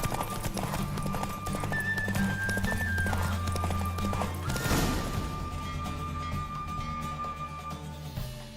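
Hoofbeats of a galloping horse in a race in The Witcher 3, a rapid clip-clop rhythm under a steady music bed, with a sharp crash midway and a brief whinny-like tone.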